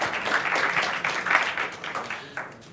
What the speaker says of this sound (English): So give a round of applause to Martin.